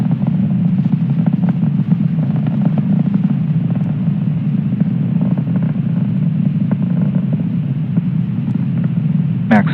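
A SpaceX Falcon 9 rocket's engines rumble as a steady, dense, low roar during ascent toward max Q, loud and unbroken throughout.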